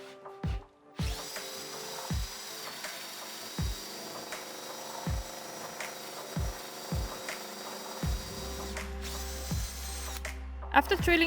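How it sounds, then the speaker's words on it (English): A power drill whirs in repeated short bursts while drilling holes in oak, each burst ending in a brief thump, close by and loud, with a steady hum in the background. "After drilling the holes,"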